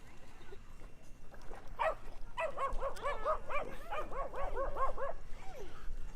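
A lone dog on a beach among many quiet dogs gives a quick run of sharp, yelping barks at moderate distance over a soft background hiss.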